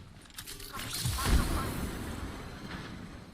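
A grenade goes off in a team-based video game: one deep, rumbling boom that swells about a second in and slowly fades into steady background game noise.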